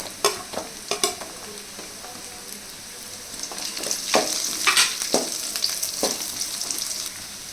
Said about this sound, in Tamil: கலர் மாறுற வரைக்கும் வதக்கிக்கலாம்